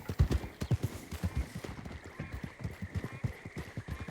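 Hooves of an Arabian thoroughbred clip-clop in steady rhythmic strikes within a video game, close and clear throughout, with a brief whinny-like tone in the background.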